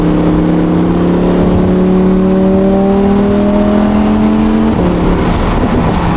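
Stock Lamborghini engine on a street, loud and close, its tone rising steadily through a long pull before a sudden drop as it shifts, with no talk over it.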